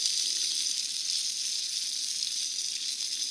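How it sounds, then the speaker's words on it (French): Rabbit meat roasting over an open campfire during a bushcraft bivouac, giving a steady, close, crackling sizzle with a bright hiss. It continues evenly with no talk. "Et le lapin qui roussit bien là."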